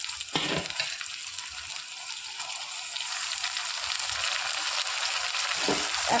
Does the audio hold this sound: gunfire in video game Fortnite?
no